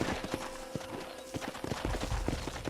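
Horse hooves clip-clop in a steady rhythm in Red Dead Redemption 2, a close, clear walking beat with faint background ambience and no talking.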